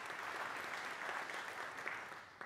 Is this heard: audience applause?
yes